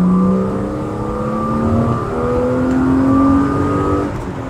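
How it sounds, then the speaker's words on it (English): A BMW E36 323i engine with a swapped-in M50 intake manifold revs hard and climbs steadily in pitch, a loud, sustained high-rpm whine close by. "now we're gonna test the high revs"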